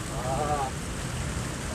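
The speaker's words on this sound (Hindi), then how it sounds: "बारिश भाई बहुत तेज हो गई है।" Steady, dense rain hiss fills the clip, loud and continuous, with a brief tonal squeal early on and faint voices mixed underneath.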